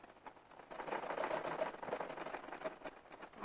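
A sewing machine runs a seam on a kurti in a soft, continuous whirring patter, faint and close, with no talk.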